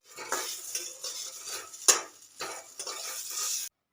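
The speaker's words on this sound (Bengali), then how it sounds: "এই দেখো যা ডিমটা উল্টাতে যে কি অবস্থায় করলাম" A frying egg sizzles and clatters in a pan with spatula scrapes as it is flipped at home, one sharp clink standing out midway, close and moderately loud, with no talk.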